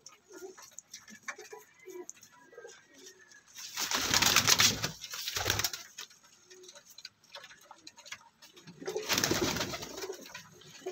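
A group of about two dozen young pigeons and doves cooing and calling, with soft scattered coos and two louder bursts of fluttering or rustling, close by, with no talk.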